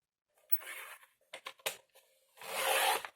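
Paper cut to size for a handmade craft folio, several close rasping snips and slides with short scissor clicks in between, quiet and without talk.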